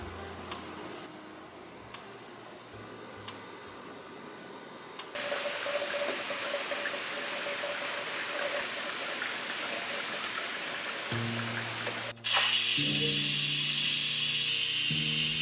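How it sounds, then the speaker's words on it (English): An Instant Pot pressure cooker full of plant-based soup is manually released. A steady rushing noise builds, then a loud, bright hiss of venting steam bursts in abruptly near the end and holds at full strength, with a low hum underneath. "you can go ahead and release the rest of the pressure manually"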